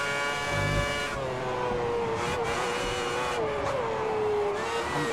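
A 2010 Formula One car at the British Grand Prix drives down the pit lane, its engine holding a steady, fairly loud whine with a low rumble and slight pitch shifts, close by throughout.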